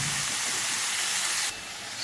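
Broccoli, cauliflower and peas sizzling and frying in a covered pan, a loud continuous hiss that drops in level partway through, then carries on steadily.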